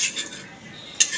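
A metal utensil clinks against a cooking pot as chicken pieces are laid onto rice for yakhni pulao: two or three short, bright scrapes and taps, close and fairly loud, with no talk over them.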